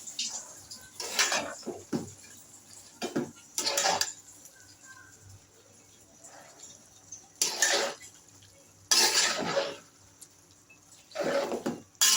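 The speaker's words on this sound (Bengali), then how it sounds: "এই যে আমার বাঁধাকপিগুলো দিয়ে দিলাম সুন্দরভাবে" Shredded cabbage tipped into a pot of mung dal and fish, bringing several loud bursts of clattering spoon and pot against a quieter kitchen background, the clanks coming in irregular clusters.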